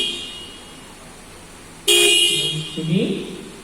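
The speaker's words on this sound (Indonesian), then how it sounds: "Klakson itu ceknya 2-3 kali." A vehicle horn is tested during lift-operator training, sounding one steady blast that starts abruptly and holds for about a second, followed by a shorter, wavering honk, both loud over faint background noise.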